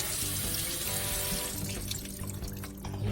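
Cold water runs steadily from a kitchen tap while a whole chicken is rinsed before smoking, a continuous close splashing rush with small shifts as the bird is moved under the stream.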